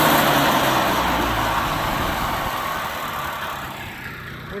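A two-stroke engine runs steadily and close by, a dense continuous roar that eases slightly in level toward the end, with no talk over it.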